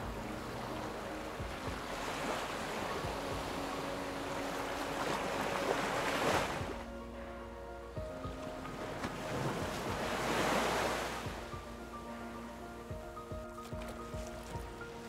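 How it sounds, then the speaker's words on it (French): Mediterranean waves breaking on pebbles and rocks at Nice, two surging crashes that swell and fade amid a steady wash of surf and light wind rumble, with no voices. "Le tumulte des vagues qui fait ronronner l'océan sur les rochers."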